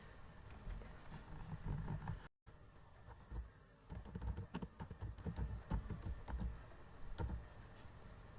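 Keys on a computer keyboard clatter in a scattered run of light clicks, with a firmer press for Enter among them, quiet and close with a brief dropout early on and no talking.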